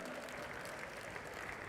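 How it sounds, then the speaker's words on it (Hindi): Audience applause at a talk, a dense, faint patter of many hands clapping steadily for a brief moment. "तालियां पटपट पटपट हो रही हैं।"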